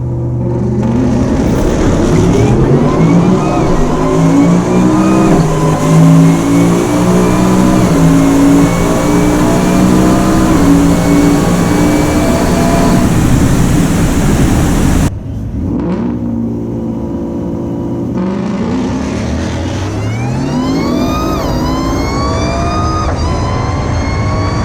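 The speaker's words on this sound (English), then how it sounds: "Getting ready to run a 2017 Mustang GT, completely stock." A stock 2017 Ford Mustang GT makes a loud drag-racing launch at a test-and-tune session, its V8 engine roaring through rising, repeated gear pulls for about fifteen seconds before a brief drop and a renewed, sweeping rev.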